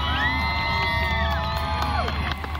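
A crowd cheering and whooping outdoors after a marriage proposal at a holiday light display, loud sustained voices with rising shouts, tapering slightly at the end.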